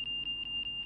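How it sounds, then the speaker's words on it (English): Aircraft angle of attack indicator during a landing approach as the plane slows, giving a steady high electronic tone with repeated rapid chirping pulses, close and clear with no talk. "you can hear the AOA getting frenetic"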